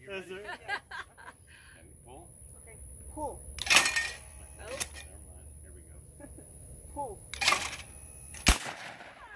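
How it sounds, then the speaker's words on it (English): Shotgun blasts during outdoor skeet shooting: two loud, sharp reports a few seconds apart, each followed by a short decay, with people chatting, exclaiming and laughing nearby in between. "First time I ever shot a gun."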